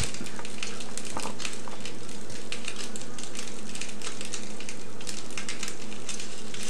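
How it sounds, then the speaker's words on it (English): Goetta, a mix of oats and sausage, sizzles steadily as it fries in a pan, a dense continuous crackle with scattered louder pops, close and fairly loud throughout with no talking. "Ah, there's some sizzle."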